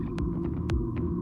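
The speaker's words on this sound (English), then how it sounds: "That's the sound of the fully electric Audi Q6 e-tron." A low, steady electric hum from a fully electric Audi Q6 e-tron SUV, with a soft throbbing pulse, punctuated by a few brief clicks, fairly quiet and close.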